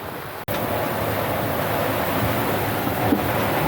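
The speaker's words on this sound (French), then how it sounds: "Terrible orage, plus de 40 nœuds dans les rafales" Strong gusts of over 40 knots roar steadily across a sailboat at sea in a thunderstorm, with a dense, constant rush of wind and water after a brief dropout at the start.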